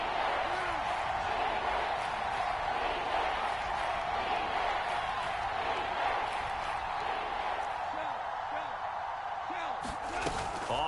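Football stadium crowd roaring before a big third down in an NFL game, a dense, steady wall of cheering that holds loud and unbroken throughout, with faint whistle-like chirps rising above it.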